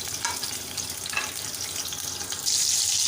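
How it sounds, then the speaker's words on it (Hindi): Chopped medium onion drops into hot oil in a small pot and sizzles steadily, growing louder and brighter near the end, no voices. "इसके अंदर हम ऐड कर देंगे प्याज।"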